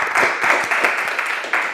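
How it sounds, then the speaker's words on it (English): A burst of audience applause, many hands clapping together at once, fairly loud and steady for a couple of seconds. "Give him a round of applause."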